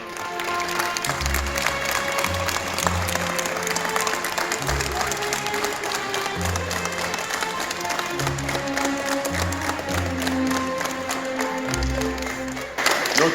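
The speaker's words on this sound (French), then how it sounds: "monsieur Pascal Adam, ici présent, on peut l'applaudir" An audience applauds a karate referee newly made an international referee, at a local community event; steady, fairly loud clapping fills the whole stretch, with music-like low tones pulsing underneath.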